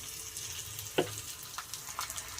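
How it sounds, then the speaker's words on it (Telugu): A garlic tempering sizzles in hot oil with a continuous close crackle, a sharp clink or pop at one second and smaller bursts of spitting after it. "నేను మామూలుగానే వెల్లుల్లిపాయ పోపు మాత్రమే పెడుతున్నాను"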